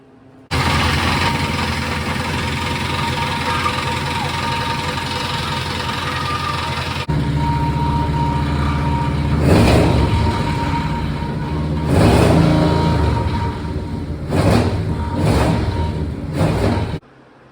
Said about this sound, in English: So we did get the truck to start and run.